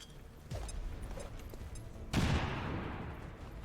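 Grenade detonation in XCOM 2 Long War 2, a sharp crack early on, then a loud booming blast with a long rumbling, crackling decay.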